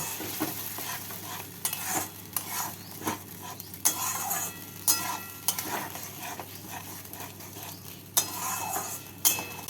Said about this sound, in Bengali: মিক্সিং জারটা ধুয়ে অল্প জল দিয়ে দিলাম মশলাটাকে কষিয়ে নিচ্ছি